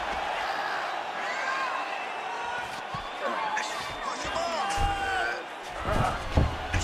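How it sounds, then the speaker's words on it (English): Arena crowd in the EA Sports UFC 5 video game during a Bruce Lee vs Kevin Randleman ground fight, a steady roar with rising shouts and whoops, under a commentator's voice. "the crowd continues to react with every passing land"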